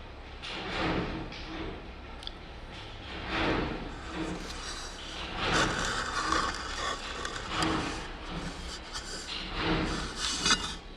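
A spoon stirs grated raw potato in a pan with continuous rubbing and scraping strokes, close and moderately loud.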